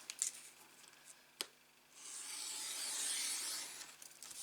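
Scissors cutting straight through material for an Easter basket, a few close clicks and snips followed by a longer, steady rasping cut, close and fairly quiet with no talk.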